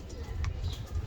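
A pigeon coos softly nearby, a few low, murmuring notes over faint background noise.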